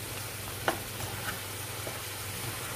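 A spoon stirs simmering chicken gravy with curd and lemon juice in a pan over a low, steady bubbling sizzle, with a few soft scrapes and taps.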